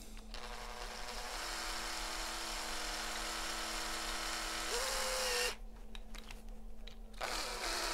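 A Makita drill whirs steadily at close range while its chuck is being tightened, a continuous high-pitched motor buzz that shifts pitch briefly before cutting out near the end. There is no talking.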